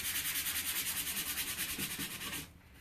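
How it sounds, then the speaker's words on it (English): Sandpaper lightly sanding a wooden frame, a close, steady rhythmic rasp of quick back-and-forth strokes that continues for over two seconds and then stops abruptly, leaving quiet room tone. "You're just going to lightly sand the wooden frame."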